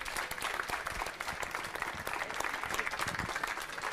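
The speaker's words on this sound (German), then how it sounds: "bitte nochmal einen Applaus für unsere Leute" A conference hall audience claps for the developers on stage: a sustained, fairly quiet wash of many hands applauding evenly throughout.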